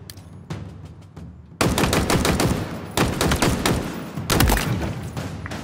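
Rapid gunfire from Halo Infinite target practice: a quieter opening burst, then loud sustained automatic volleys starting near two seconds, with crisp repeated shots in several dense clusters and no voices.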